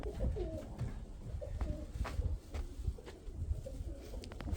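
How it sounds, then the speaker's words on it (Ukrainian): Soft dove cooing repeats several times nearby, low hooting calls over a noisy outdoor background with faint chirps. "Красива голубка."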